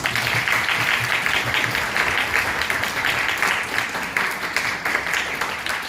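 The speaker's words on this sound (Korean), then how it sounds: "모든 졸업생들을 향해서 축하와 격려의 박수 부탁드립니다" Steady, dense applause from a crowd at a university graduation ceremony, sustained evenly throughout without pause.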